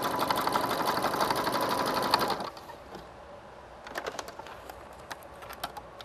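A sewing machine runs a straight stitch on fabric for a tie-shirt canvas bag: a steady, close, rapid whirring buzz for about two seconds, then short bursts of stitching with quiet gaps.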